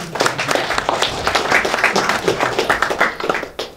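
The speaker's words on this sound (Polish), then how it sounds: "Brawa dla Klaudyny za poświęcenie!" A live tech-talk audience applauds Klaudyna, brisk, dense clapping with sharp individual claps standing out, loud and close, then trailing off near the end.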